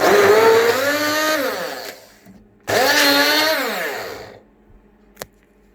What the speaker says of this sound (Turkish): Sarımsağımızı mikserledik.